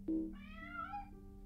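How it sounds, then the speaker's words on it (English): A cat meows in the video game Lord of the Rings Online, a single clear drawn-out meow with rising and falling pitch, close and alone. "A cat!"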